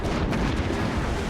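Cannon fire from a ship in Assassin's Creed Rogue booms close and heavy, a dense rumbling blast that fills the short moment with no voices.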